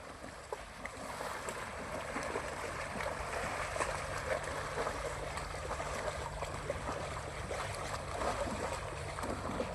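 The Godavari river flowing past in a steady, broad rush of moving water with some wind noise, continuous and moderately close, no talking.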